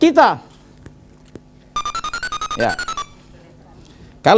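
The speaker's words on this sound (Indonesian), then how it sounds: "kita ada yang telepon?" A telephone rings during a live TVRI Jawa Timur call-in religious talk show, a rapid pulsing electronic ring lasting about a second and a half, with someone speaking before and after it.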